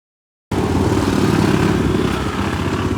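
A motorcycle engine runs steadily during a road test, cutting in abruptly after a brief silence and then holding a loud, close, rough drone with no talk over it.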